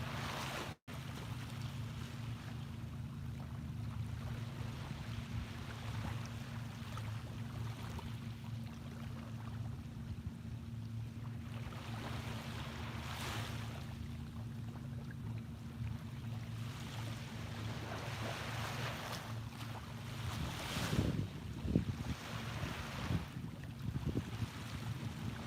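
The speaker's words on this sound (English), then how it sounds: "let's look out on the water now and enjoy the sounds of the waves" Steady wash of ocean waves heard from the shore, a continuous low rumble with wind buffeting the microphone and a slightly stronger surge near the end, no voices.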